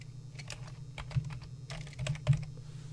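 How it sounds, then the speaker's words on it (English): Keys tapped on a computer keyboard as a name is entered into a lock manufacturer search, a short run of soft, uneven clicks over a steady low hum, with no talking. "Let's type in American."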